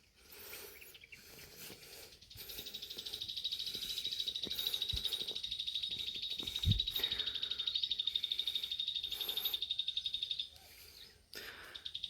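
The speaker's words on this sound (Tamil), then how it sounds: "இந்த பறவைகள் சவுண்டு கேட்குறதுக்கு இன்னும் ரொம்ப சூப்பராக இருக்குது" Birds chirp and call steadily in a quiet outdoor setting on a hill at a Shiva temple, a continuous high twittering with a few soft knocks and rustles, no one talking.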